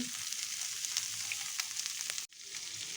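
Finely chopped green chillies and grated ginger sizzle in hot oil in a pan, a steady bright crackle with faint stirring, broken by a brief dip near the end before the hiss resumes.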